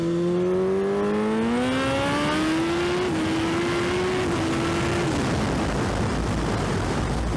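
Car engine cruising after spark plug maintenance, a steady engine drone whose pitch climbs gradually with small shifts, then fades into road and wind rush, heard from inside the car with no talking.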